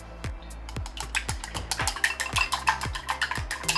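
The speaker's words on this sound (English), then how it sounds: "First, prepare 2 eggs and mix them well." A whisk or utensil beats two eggs in a bowl, producing a quick, steady rhythm of clicking taps close to the microphone.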